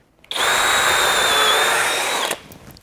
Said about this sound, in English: help to eject the wood chips out of the hole that you're drilling